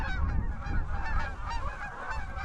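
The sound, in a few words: Canada geese honking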